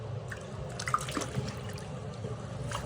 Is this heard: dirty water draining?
yes